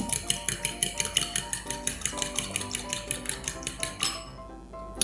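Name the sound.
beating eggs for a microwave omelet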